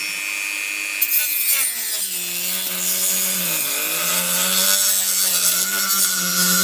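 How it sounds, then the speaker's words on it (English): A Dremel rotary tool grinds steadily through a glued object. Its high whine dips and wavers in pitch as the cut loads and eases, and it runs loud and close without a break. "I'm going to get the Dremel and I'm going to open this"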